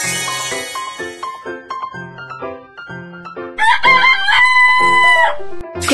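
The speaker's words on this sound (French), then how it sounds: "Coq." A cartoon rooster crows in a children's Babybus game. A long, loud cock-a-doodle-doo rings out over a bouncy music backing, close and clear, with no voices.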